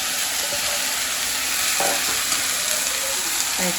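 Onions and curry leaves sauté in a pan with a loud, close, constant sizzle, broken by a few scraping stirs of the spatula and no talk.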